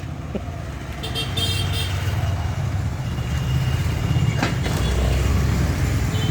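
Motorbikes and cars stream past on a busy street beside a footpath market under a planned metro line, engines droning steadily with a couple of short horn toots rising out of the traffic hum.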